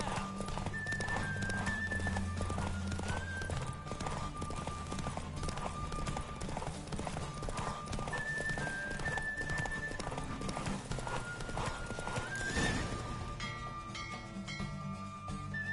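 Galloping hooves pound in a steady, rapid rhythm throughout, loud and close, with a horse whinnying and music playing along.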